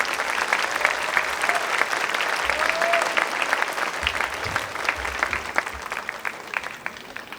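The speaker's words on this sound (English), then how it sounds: "Let's welcome them with a huge round of applause." Sustained applause from an audience at a school valedictory function, a dense even patter of many hands clapping close and loud throughout, without speech.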